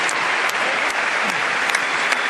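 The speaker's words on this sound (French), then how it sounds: "Et ben on va l'applaudir aussi" Spectators applaud during a 100 m freestyle swimming semi-final, a continuous, loud, even burst of many hands clapping in a large venue.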